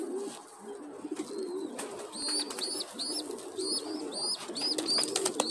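Racing pigeons of the Von der Wouwer line coo repeatedly in soft, rhythmic two-part calls against a faint background murmur.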